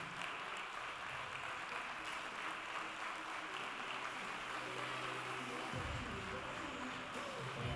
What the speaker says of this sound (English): And give these girls a huge applause